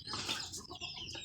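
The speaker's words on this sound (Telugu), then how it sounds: "అన్ని నాటి కోళ్ళు." Native country hens cluck softly in a brief, faint burst of short calls, with no voices.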